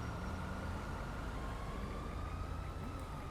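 An ambulance siren in the GTA 5 LSPDFR police mod, a steady, slowly wavering wail held over a dense rumble of traffic and engine noise, moderately distant.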